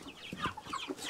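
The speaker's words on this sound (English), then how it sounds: "These are broilers, which are the meat hens." Broiler meat hens on a Newfoundland homestead cluck softly in a quick, irregular run of short calls, faint and fairly close, with no talking over them.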